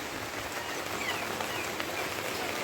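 Steady rain falls in a constant, even hiss, moderately faint and unbroken, with no voices or other sounds over it.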